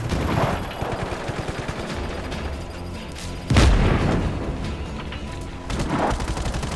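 Machine gun fire in the video game Just Cause 3, dense rattling bursts running nearly continuously with heavy booming impacts around the middle and near the end, loud and close.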